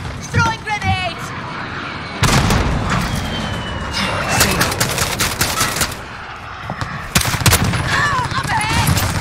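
Bursts of automatic gunfire, explosive booms and sharp impacts in the Call of Duty Modern Warfare team deathmatch mode, loud and close with brief lulls, while in-game voices call out over the combat.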